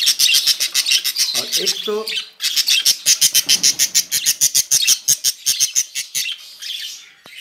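Pet Kolkata lovebirds and their grown chicks squawk and chirp in rapid, repeated bursts close by, nearly continuous across the scene, with a voice talking briefly among the calls.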